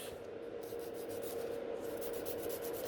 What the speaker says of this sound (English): filing gently on this one, shorten it a little bit more